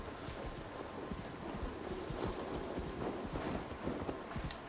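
Horse hooves clip-clopping in Assassin's Creed Valhalla, a steady run of soft, fairly faint hoof beats over a low rumbling game ambience, with no talking.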